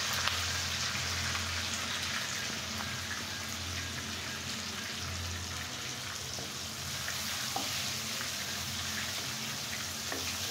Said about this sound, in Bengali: খুব সুন্দর করে পেঁয়াজ, রসুন আর শুকনো লঙ্কাটা ফ্রাই করে নেব।